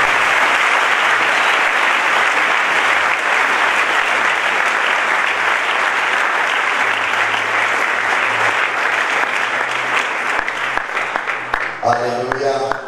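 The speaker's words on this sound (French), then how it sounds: "Sous vos acclamations, nous recevons le pasteur." A church congregation applauds to welcome a pastor, sustained loud clapping from a large crowd filling the room, with cheering voices rising near the end as the applause begins to fade.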